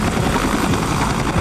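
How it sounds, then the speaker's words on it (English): A lone helicopter flying in at night toward a dark city hospital, its loud, dense rotor thrum close and continuous throughout. "hospital staff hear the sound of a lone helicopter"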